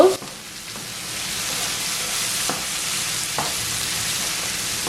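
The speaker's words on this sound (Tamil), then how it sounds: "இப்படி மிக்ஸ் பண்ண பிறகு இதை நாங்கள் மூடாமல் ஒரு பத்து நிமிஷம் இதை கிளறி கிளறி எடுப்போம்" Ash plantain is stir-fried in a pan, giving a steady sizzling hiss with a few soft scraping stirs.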